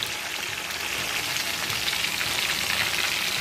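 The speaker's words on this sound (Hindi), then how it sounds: "इसको हम अच्छे से डीप फ्राई कर लेंगे।" Chicken pieces deep frying in hot oil give a steady, dense sizzle and crackle that stays loud and even throughout, with no talking.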